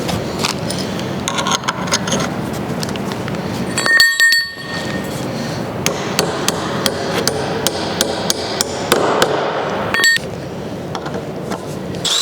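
Sharp metallic hammer blows strike bolts on a metal hay feeder during its build, a series of ringing clinks at an uneven pace, some louder than others, with faint background noise.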